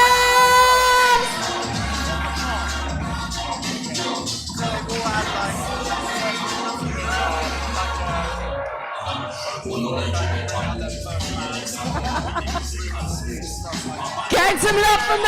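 Arena crowd at a chessboxing show cheering and whooping as a fighter enters, loud and sustained throughout, with music and announcer-style voices mixed in.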